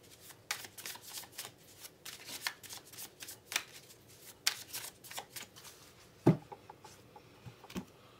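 Tarot cards are shuffled softly and close by, producing a series of quick riffling snaps and patters at an irregular pace, with one sharper slap near the end.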